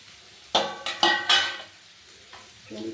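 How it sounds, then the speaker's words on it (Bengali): Bottle gourd peels tossed into a hot pan for a mashed peel dish, producing a few sharp scraping stirs and clatters of spatula against metal over a soft sizzle, then quieter frying. "এবার আমি এই যে লাউয়ের খোসাগুলো দিয়ে দিলাম"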